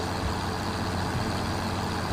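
A truck engine in Farming Simulator 25 rumbles steadily and loudly, a constant low drone with no pauses and no voices.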